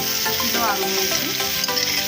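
Pieces of raw sour mango hit a hot pan and sizzle loudly and steadily, with a stirring scrape partway through and a faint voice underneath.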